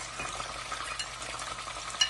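Ginger, chili and garlic paste sizzles in hot oil for a tempering, a steady close hiss with faint stirring scrapes and a brief louder crackle near the end.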